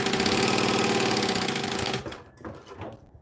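Sewing machine speed sewing genuine leather, running fast in a steady rapid stitching rhythm that is loud and close, then slows and stops into a few brief, uneven mechanical clicks.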